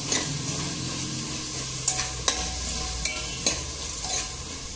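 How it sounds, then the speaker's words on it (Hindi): Green mint paste is stirred and fried in a pan for mint rice, with a steady broadband sizzle and several sharp spoon scrapes and clinks against the pan, close up with no voices. "अब आप इसमें पेस्ट ऐड कर दीजिए और इसे अच्छे से मिक्स कर लीजिए"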